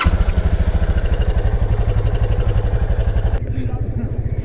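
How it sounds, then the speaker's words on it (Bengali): A motorcycle, cold-started at five in the morning, idles with a rapid, even low thumping that stays loud and close throughout, its background hiss dropping away near the end. "একটা কোল্ড স্টার্ট দিই বাইকটা।"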